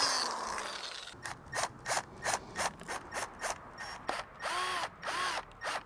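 Bolts are driven in on a DIY stone crab trap with a power tool, giving repeated short ratcheting whirs in even bursts after a brief scraping start, close and fairly quiet, no speech.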